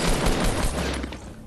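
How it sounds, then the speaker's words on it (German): Rapid close gunfire in the Fortnite video game, a loud dense burst of shots that fades out toward the end. "Ich werd beschossen!"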